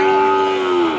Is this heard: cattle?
yes